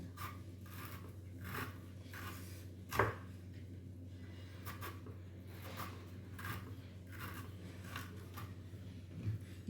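A knife chopping raw jackfruit into small pieces on a board, a steady series of dull close cuts with one sharper knock, no talking.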